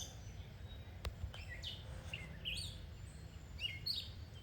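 A small bird sings outdoors at a lake-shore park on Lake Erie, giving a series of quick, bright chirps and short whistled phrases at moderate distance over a quiet background hum.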